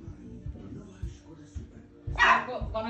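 A dog barks in a loud burst of several quick, close barks near the end, after softer low yips and whimpers, with people talking over it.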